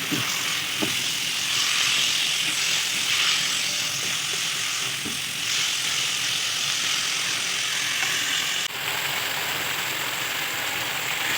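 Minced meat (keema) frying steadily in a pan, a continuous close hiss and crackle with a few small pops, running alone without any talk.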